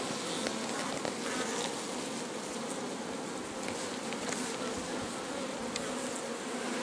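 Honeybees hum in a dense, continuous buzz around an open hive, with individual bees passing close now and then over the steady drone; no talking.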